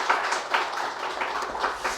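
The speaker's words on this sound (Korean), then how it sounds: "우리 다시 한번 박수로 우리 격려했으면 좋겠습니다" A church congregation claps for the children after their special song at an all-generations worship service, a steady, diffuse patter of many hands that continues evenly throughout without voices.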